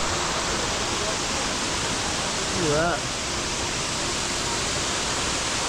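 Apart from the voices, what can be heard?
waterfall in Bali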